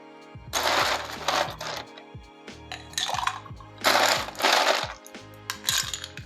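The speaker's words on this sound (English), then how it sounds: "And then you'll want to fill the glass up with ice." Ice cubes clatter into a glass for a mojito in several loud bursts of rattling and clinking, separated by brief pauses.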